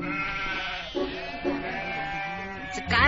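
A goat bleats close by in a series of wavering, nasal cries that run together, loud and clear with no talking over them.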